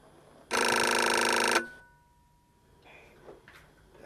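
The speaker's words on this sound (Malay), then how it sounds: "Telefon ni asyik mekak aja." A telephone bell rings loudly in one continuous burst lasting about a second indoors, then stops, leaving faint room noise and a few small sounds afterward.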